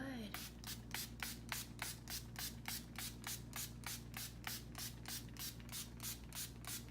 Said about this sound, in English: Next, I'm gonna be using the Ulta Beauty Matte Makeup Setting Spray.